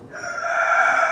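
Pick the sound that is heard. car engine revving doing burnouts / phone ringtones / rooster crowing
rooster crowing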